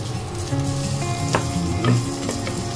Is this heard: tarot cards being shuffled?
no